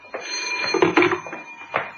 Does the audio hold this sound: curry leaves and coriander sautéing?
no